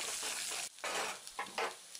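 Tempering spices and crushed dried red chillies fry in hot oil for moong dal with tomato, giving a soft crackling sizzle broken by short bursts as a ladle stirs them in the pan, quiet and close.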